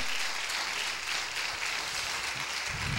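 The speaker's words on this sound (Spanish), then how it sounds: "Dar un aplauso al Señor esta tarde" Audience at a Christian gospel concert applauding, a dense, steady wash of clapping that holds at an even level for the whole stretch.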